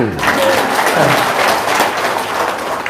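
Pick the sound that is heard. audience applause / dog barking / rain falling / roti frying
audience applause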